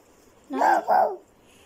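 A voice imitates a dog's bark, two quick yelping barks close up, alone against quiet background.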